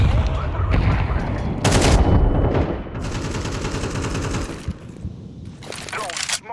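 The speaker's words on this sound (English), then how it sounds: "I'm throwing a grenade." A thunderous blast opens a chaotic video-game firefight, followed by dense, rattling automatic gunfire and sharp single shots, loud and close, with a voice speaking over the action.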